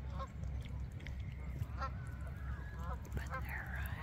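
Geese honk repeatedly at a distance at Lake Tomahawk, scattered calls rising over a low outdoor rumble, with a faint voice murmuring in the background.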